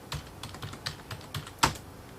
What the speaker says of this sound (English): I type in my first personal name,